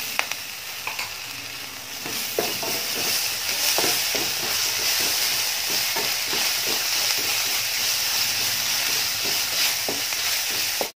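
Ginger garlic paste frying in a pan for a banana leaf fish fry, giving a steady loud sizzle across the whole stretch with repeated stirring scrapes and clicks and no speech.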